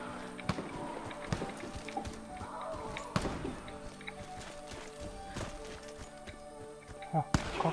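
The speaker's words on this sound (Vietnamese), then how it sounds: "Mình vẫn nghe tiếng chân của ai ở đây." Repeated footstep thuds and scuffs in the shooter game Warface, mixed with clicks and game effects, fairly close, with a voice talking intermittently over them.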